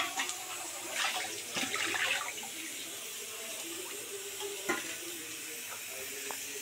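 Tap water runs and splashes into a bowl being washed at a sink, in uneven bursts with faint knocks of the bowl, fairly quiet and without talk.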